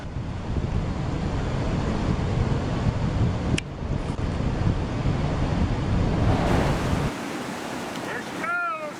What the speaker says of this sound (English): floodwater came crashing down the mountain like a giant monster, engulfing everything in its path